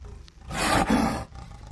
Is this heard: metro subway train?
no